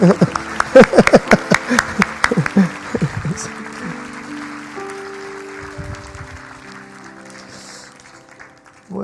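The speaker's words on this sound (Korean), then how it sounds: "다시 한번 우리 두 분 장로님께 뜨거운 박수로" A church congregation at Sunday worship gives a burst of applause for two elders: a few seconds of fairly loud, uneven clapping that quickly dies away, leaving sustained soft keyboard-like tones.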